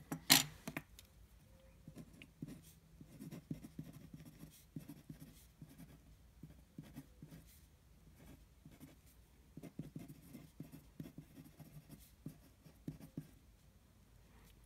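Pencil drawing lines and arcs on paper for a geometric construction: soft, close scratchy strokes in irregular bursts, with a brief knock at the start.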